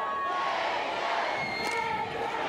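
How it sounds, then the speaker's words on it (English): A crowd roars and cheers steadily at a Sun Belt college softball championship game in Lafayette, with the Cajuns playing. The dense, loud noise holds throughout, with faint voices mixed in. "And this crowd is loving it in Lafayette."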